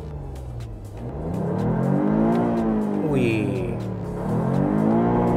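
A 2025 Toyota GR Yaris engine revved from inside the cabin, rising and falling twice in strong, close surges, with a brief exclaimed voice over it.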